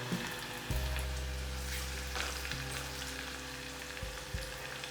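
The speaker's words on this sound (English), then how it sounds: "once the oil is hot, I'll be adding in half teaspoon of cumin seeds, followed by 3 to 4 garlic cloves, finely chopped" Half a teaspoon of cumin seeds with finely chopped garlic and ginger sizzle steadily in hot oil, a close, continuous frying hiss with a low hum beneath and no voices.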